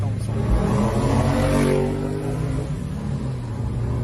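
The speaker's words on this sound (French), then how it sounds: "Je te fais un petit launch control." Audi A8 4.2 V8 launching hard from a standstill, the engine note rising steadily as the car accelerates, loud and close with a brief burst at the start.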